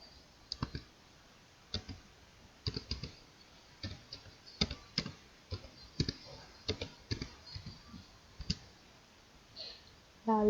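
Scattered computer mouse clicks and key taps sound quietly and irregularly while SPSS software is operated, ending in a brief louder noise.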